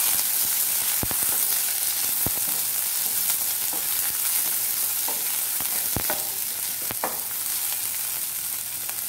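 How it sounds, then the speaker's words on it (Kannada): A large onion fries in oil in a pan, giving a loud, constant crackling sizzle close by, punctuated by occasional sharp spatula knocks and scrapes, with no talking. "ಇದಕ್ಕೀಗ ಒಂದು ದೊಡ್ಡ ಈರುಳ್ಳಿ ಹಾಕಿ ಫ್ರೈ ಮಾಡಿ"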